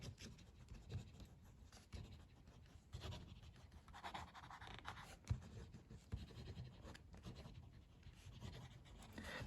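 A Roncari redwood and ebonite fountain pen writes quickly on paper, making soft, close scratching strokes in an irregular rhythm against a quiet background.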